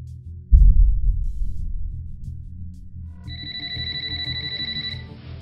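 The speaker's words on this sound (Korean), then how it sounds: "모니카에게 전화합니다" A telephone rings with a steady electronic warble in repeated pulses. It starts after a dull thump and a stretch of quiet room tone and is heard alone, with no talking.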